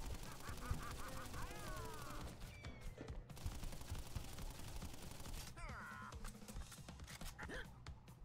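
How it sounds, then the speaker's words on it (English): Rapid toy-gun fusillade in a busy, noisy setting, with repeated bursts of firing broken by stutters where the weapon jams, dense and continuous over a loud background with squawking, quack-like chirps. "His gun isn't running out of bullets, it's just jamming now."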